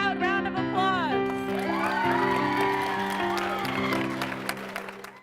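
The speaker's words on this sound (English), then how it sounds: "Give them one loud round of applause." Applause with cheering and whoops for two school student board candidates at an election event, loud and sustained throughout, mixed with crowd shouting and a voice or music tones running underneath.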